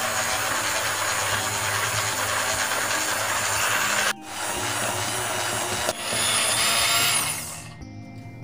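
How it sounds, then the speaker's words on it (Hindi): Kitchen grinder whipping custard ice cream mixture, a loud continuous motor whir and churning that dips briefly twice and then winds down near the end, no talk. "अब हम इसे इस ग्राइंडर से चला देंगे।"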